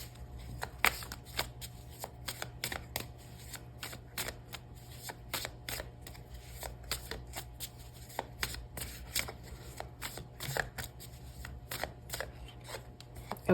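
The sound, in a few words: shuffling tarot cards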